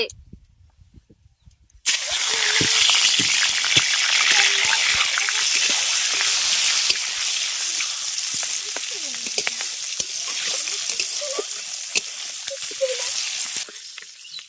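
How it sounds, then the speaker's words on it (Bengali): Fish head frying in a pan for a Bengali meal, a loud, steady sizzle that bursts in after two quiet seconds and crackles continuously nearby, with faint spatters throughout. "মাছের মাথাটাকে আমি ভেজে নেবো"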